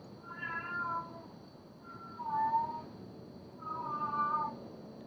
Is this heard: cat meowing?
yes